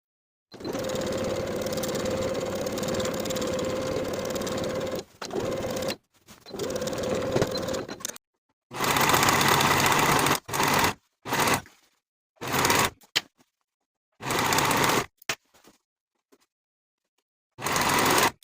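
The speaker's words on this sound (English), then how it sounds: "I'm going to sew the outer edges of the pocket with a 5/8 inch seam allowance" A sewing machine stitches the outer edges of a jumpsuit pocket in a steady whirring, motor-driven run, then breaks into shorter bursts of stitching separated by silent pauses, close and alone.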